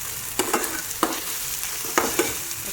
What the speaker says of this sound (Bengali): আদা রসুনগুলো ভালো মতো কষিয়ে নেব